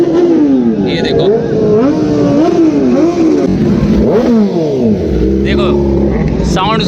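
Motorcycle engine revving repeatedly at a moto fest in Dhanbad, Jharkhand, pitch sweeping up and down in several loud bursts, close by, with someone talking over it.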